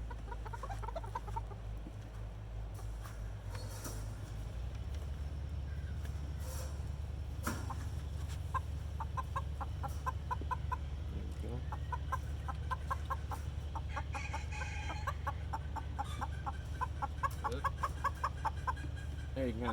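Black Wyandotte cockerels cluck in a steady run of short, close calls, the pace quickening over the second half, set against a constant low hum.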